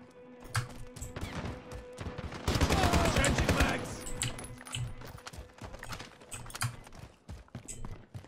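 Gunfire in Call of Duty Modern Warfare: a dense burst of rapid automatic fire swells in the middle, with scattered single shots and clicky keyboard-like taps before and after.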